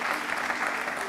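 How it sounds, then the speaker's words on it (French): A studio audience at a TV show gives dense, continuous applause that lasts about a second, loud and even with no voices over it. "Je pense que ça s'applaudit."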